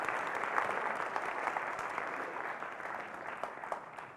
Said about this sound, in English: could we all give the panelists a round of applause with thanks.